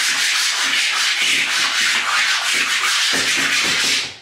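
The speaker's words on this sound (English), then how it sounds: "you take a piece of chalk, you lay it on side, and you cover the whole thing" A piece of chalk laid on its side is rubbed across a scrap-wood chalkboard, making a steady, close, dry scraping in repeated back-and-forth strokes with no talk.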